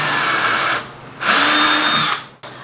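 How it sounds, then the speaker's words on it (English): A power drill bores a guide hole into a wooden table, whining loud and close in two steady runs separated by a short drop in speed, then briefly cutting off near the end. "So with my drill, I'm going to drill a guide hole."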